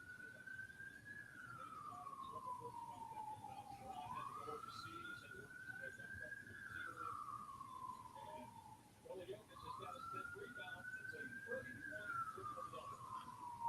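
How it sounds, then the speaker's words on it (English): Police sirens wail outside, several slow rising-and-falling cycles heard faintly and at a distance beneath a low background of voices and broadcast sound. "I hear a bunch of sirens."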